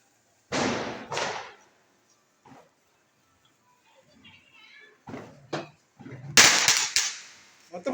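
Firecrackers bursting during Diwali celebrations, a few sharp loud bangs with scattered smaller pops and crackles, near and distinct, with people talking between the bursts.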